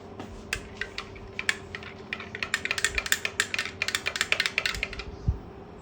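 A spoon clinks rapidly against the inside of a glass holding a cold refreshing drink, the quick close ticks speeding up into a steady stirring rattle before stopping.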